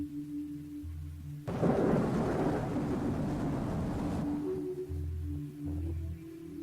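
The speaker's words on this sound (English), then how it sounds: "That's very loud and thundering." Loud, deep thunder crashes in the video game Alone With You, a sustained rumbling roar of about three seconds that fades out, set against a quiet ambient drone and low pulsing tones.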